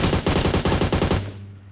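Rapid automatic AUG rifle fire in the mobile game PUBG Mobile, a loud burst of about ten closely spaced shots followed by a low fading tail.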